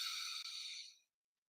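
A person breathing in deeply during a mindfulness exercise, a steady airy inhale with a brief catch midway, close and soft, tapering off into silence.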